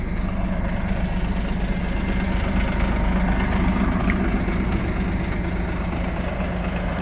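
A Scania OmniDekka double-deck bus sits with its engine idling, a steady low rumble and vibration that holds evenly throughout at close range with no talk.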